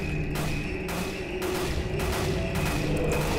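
Rapid repeated gunshots in a Roblox horror game, a steady stream of close, loud shots running without a break.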